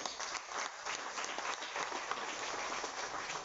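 A crowd at a public gathering in Mauritius claps steadily for a newly appointed official, a dense, even roll of many hands heard from a little distance, continuing without a break and with no voice cutting through.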